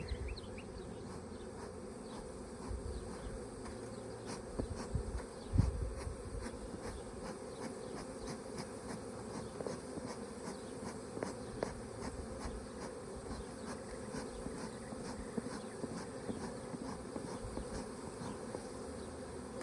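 A big swarm of honey bees hums in a continuous, dense drone, fairly faint and even, with occasional closer individual buzzes passing by outdoors.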